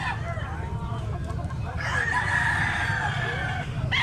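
Roosters and chickens at a gamefowl breeders' yard: a rooster crows loudly partway through, with fainter crowing and clucking from other birds around it against a steady background hum.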